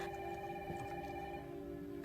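In a Resident Evil video game cutscene, a phone rings as a faint, steady electronic tone with sustained pitched harmonics, continuous and quiet.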